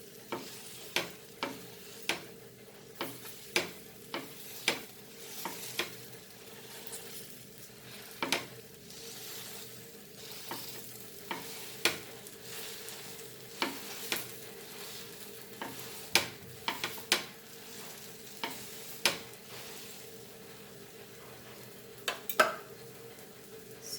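Spoon or masher pressing and stirring potato bhaji filling in a hot pan, with soft sizzling underneath and repeated sharp taps of utensil on metal at an irregular rhythm, close and fairly quiet.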